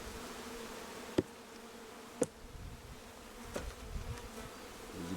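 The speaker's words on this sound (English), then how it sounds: "You may have to smoke the bees a bit to move them out of the way." Honey bees buzzing during a June hive inspection, a faint steady drone with a few louder individual bees zipping past close by in short swells.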